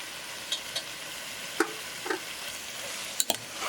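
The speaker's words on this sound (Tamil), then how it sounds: "இது கூடவே எடுத்து வச்சிருந்த தயிரையும் போட்டுறேன்" Yogurt is stirred into a quietly sizzling mutton biryani masala, with soft frying hiss beneath scattered spoon scrapes and clinks of the pot, close by with no talking.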